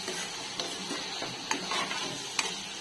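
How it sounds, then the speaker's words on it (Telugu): Brinjal pieces frying in oil as dried-shrimp brinjal curry is cooked, a steady sizzle with a few stirring scrapes and taps from a spoon against the pan, heard close with no voice. "ఈ వంకాయ ముక్కలు మొత్తం మంచిగా ఫ్రై అయినాయి కదా ఆయిల్లో."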